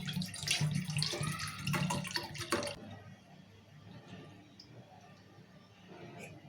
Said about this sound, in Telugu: ఇలా నీళ్ళు పోసుకుందాము.